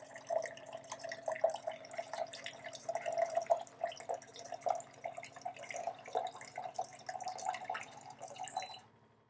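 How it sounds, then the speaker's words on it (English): Water streams steadily into a cup from a SimPure Y7P countertop reverse osmosis filter for several seconds, with a soft trickling and dripping texture, then stops abruptly. "So now it's going to dispense 6 ounces of water into my cup."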